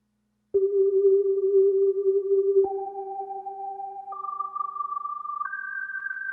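Four flutes of increasing size order, each sounding a sustained G, play one after another. Each pure, steady tone steps higher than the one before, and the last is the highest and thinnest.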